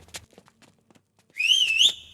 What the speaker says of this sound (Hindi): तुझे सीटी बजाने आती है क्या?